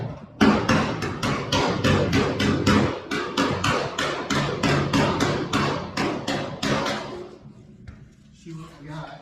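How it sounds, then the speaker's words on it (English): A hammer and dolly working the sheet-metal body panel of a 1969 Mustang BOSS 302 under restoration, producing a steady, loud run of about twenty close metallic blows at a quick even rhythm that stops near the end. "I'm going to take a hammer and dolly."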